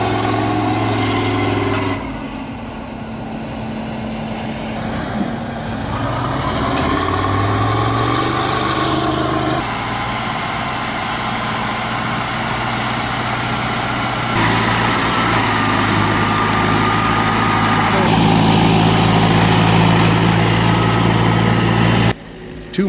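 An LKT 81 skidder engine labors steadily up a dirt hill while hauling two massive logs, a loud, continuous rumbling drone that shifts in pitch as the load strains, running without pause for the whole stretch.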